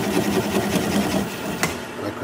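A wood lathe spins as a gouge cuts through an alder bowl, a steady low droning hum with a scraping cutting texture and one sharp snap near the end, while someone speaks over it.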